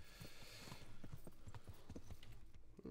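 Horse hooves gallop in the Kingdom Come Deliverance video game, a quick, even clip-clop rhythm heard up close with no voices over it.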